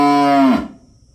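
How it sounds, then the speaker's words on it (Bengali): A village cow gives a single loud, close moo lasting about half a second, then falls away into quiet. "গরুতে খালি ডাক পড়তেছে"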